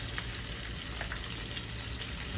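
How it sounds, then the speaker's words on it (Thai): Korean glass noodles, boiled first, stir-fried in a hot pan for pad thai, giving a steady, close, continuous sizzle and fry with no talking. "เอาเส้นไปผัด แบบนี้เลย"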